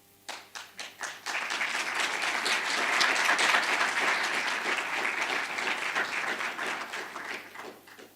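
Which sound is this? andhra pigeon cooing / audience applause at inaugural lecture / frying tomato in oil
audience applause at inaugural lecture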